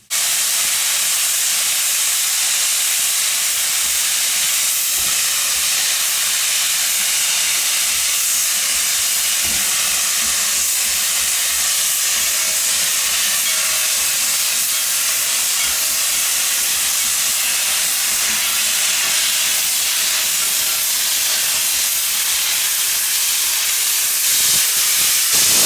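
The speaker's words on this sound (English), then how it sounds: "I did get a little wet from the steam the Shay blasted at me" A Shay geared steam locomotive at a steam museum releases a loud, close blast of hissing steam that roars on unbroken for nearly half a minute.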